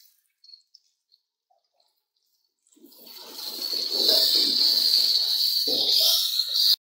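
Bombay biryani masala dissolved in water is poured into a cooking pan while making Chinese vegetable biryani. After a few near-silent seconds, a steady, moderately loud rush of pouring liquid runs for about four seconds and then stops abruptly.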